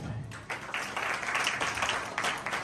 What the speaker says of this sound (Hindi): एल्डर साहब के लिए जोरदार ताली।